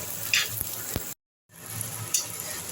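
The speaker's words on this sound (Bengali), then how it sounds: "পেঁয়াজটাকে আমি একটু ভাজা ভাজা করে নিচ্ছি।" Onion frying in a little oil in a pan, a steady, fairly quiet sizzle with a few soft stirring knocks, cut by a short break of silence partway through.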